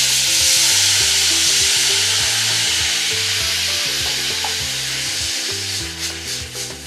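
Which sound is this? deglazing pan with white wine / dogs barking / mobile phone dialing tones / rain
deglazing pan with white wine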